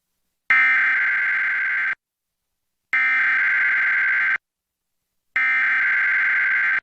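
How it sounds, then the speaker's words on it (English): Emergency Alert System test attention tones from a Northeast King County 911 monthly broadcast: three loud, steady electronic two-tone blasts, each about one and a half seconds long, separated by short silences, with no voices. "The following tones will conclude this test."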